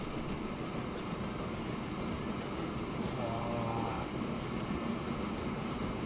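A train running in the video game Transport Fever gives a steady, close rumbling roll with faint wheel clatter that never lets up, and a voice may be heard under it.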